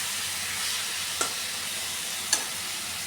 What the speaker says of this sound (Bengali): সামান্য ধনের গুঁড়ো আর হলুদ গুঁড়ো দিয়ে আমি এই মশলাটাকে আরও খানিকক্ষণ কষিয়ে নেব।